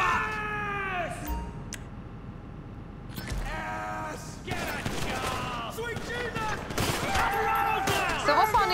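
Gunfire in GTA Online during a Los Santos Tuners data contract mission: bursts of shots and rattling fire over several seconds, mixed with voices and other game sounds, heard somewhat distantly.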